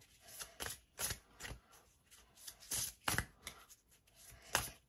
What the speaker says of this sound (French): Je vais mélanger les cartes.